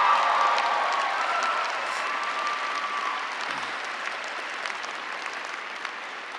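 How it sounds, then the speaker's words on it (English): Commencement crowd at Cambridge College in 2014 applauds, a broad, even wash of many hands clapping that stays steady and gradually softens a little over several seconds. "Go ahead and give yourselves a round of applause."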